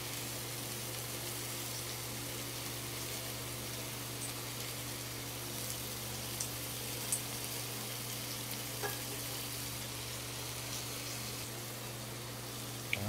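Turkey slider patties frying in a pan after being flipped: a steady, dense sizzle that continues without a break, with a constant low hum underneath and a few faint ticks and pops scattered throughout.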